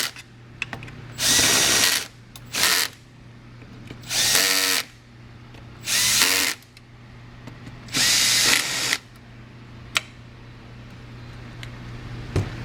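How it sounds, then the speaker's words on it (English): Bolts on a TMIII backplate are tightened with a power tool, producing four loud, close whirring bursts of a second or less, separated by short pauses and small clicks. "Tighten these two bolts first, and then you can come back and tighten the stiffening bracket to the motor"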